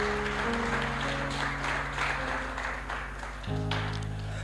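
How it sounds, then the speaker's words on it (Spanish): A church congregation applauds, a steady wash of many hands clapping while sustained music tones carry underneath. "Den un fuerte aplauso al Señor."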